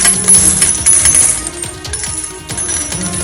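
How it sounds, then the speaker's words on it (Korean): Handed-out wish coins fall and clink as a continuous, loud shower of bright metallic jingling, with no voices. "동전을 나눠드리겠습니다"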